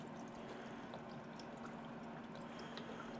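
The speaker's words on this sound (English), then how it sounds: "So we'll go ahead and pour all that beef stock in." Beef stock pours into a pot of chili, a very faint, steady liquid rush and trickle that runs continuously throughout.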